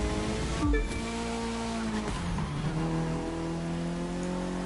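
A JDM car drifts downhill in The Crew 2, the engine roaring loudly up close with shifting revs and a sharp tire squeal early on, no voices.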